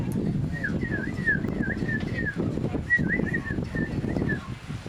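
A person whistles a warbling, up-and-down birdlike phrase several times, imitating a robin's song over soft background noise, at a Renaissance festival.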